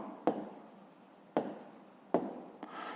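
Pen strokes on paper during a maths exercise, three sharp scratchy bursts roughly a second apart, close and clear against a quiet background with no talk.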